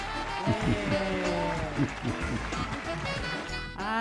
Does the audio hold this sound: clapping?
yes